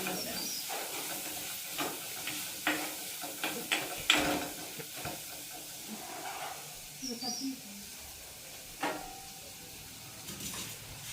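Vegetables sauté in a pan with salt and chili powder, giving a soft, steady sizzle broken by scattered clinks and scrapes of stirring.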